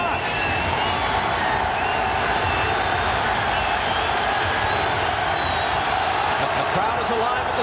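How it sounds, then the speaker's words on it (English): A packed Staples Center crowd roars through an NBA Finals Game 6 between the Indiana Pacers and Los Angeles Lakers, a steady loud wash of cheering that holds the whole time beneath a commentator's talk. "The crowd is alive at the Staples Center."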